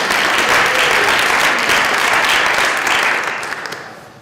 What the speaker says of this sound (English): can we have a round of applause for our...